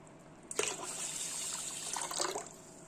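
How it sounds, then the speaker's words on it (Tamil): Water pours steadily into a bowl of washed ingredients for a couple of seconds, a continuous splashing rush that swells slightly near the end, close by with no talking. "அது மூழ்கிற அளவுக்கு"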